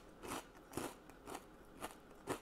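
Someone bites and chews a crunchy crouton from a homemade Caesar salad, producing five evenly spaced sharp crunches, close and fairly quiet, with no talk.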